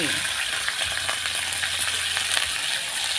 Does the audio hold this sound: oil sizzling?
yes